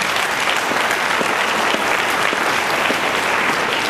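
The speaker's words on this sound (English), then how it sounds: "Let's give them a round of applause." Applause from an audience at a high school assembly, a dense, steady wash of many hands clapping at full volume throughout, with no talk over it.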